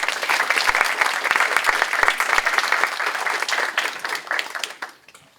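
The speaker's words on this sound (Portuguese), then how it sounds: "E é isso, aplausos." A room of people at a round-table panel on the teaching profession claps loudly and steadily for several seconds before the applause thins out and stops.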